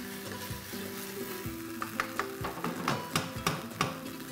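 Red and green bell peppers stir-fried in a pan for an idli chilli snack, a steady close sizzle broken by rhythmic spatula taps and scrapes against the pan, with no talking.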